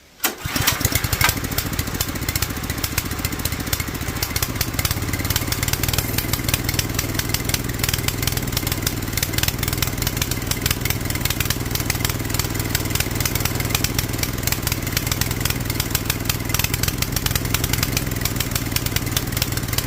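A lawn tractor engine converted to run on propane, held at full throttle with no choke, starts and then roars steadily and loudly at high revs, close by, with no talk over it.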